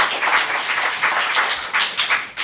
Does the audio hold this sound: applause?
yes